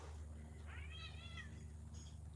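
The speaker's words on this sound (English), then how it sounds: "The cats are fighting." Cats outdoors at night, one giving a drawn-out rising and falling meow-like yowl of about a second, faint and somewhat distant over a steady low hum.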